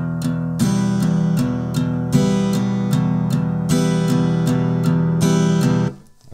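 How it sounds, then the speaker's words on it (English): Guitar strummed in steady eighth-note down strums, with accented strokes falling on beats 2 and 4, played alone at a steady loud level for several bars before cutting off near the end. "Okay, all down strums."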